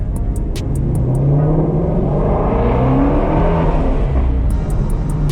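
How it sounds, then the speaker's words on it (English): A 2018 Ford Mustang Shelby GT350 engine revs loudly and close, its deep exhaust roar rising and falling in an echoing space under a bridge, with brief high beeps at the start and end. "Now you can hear me rev it out a little bit."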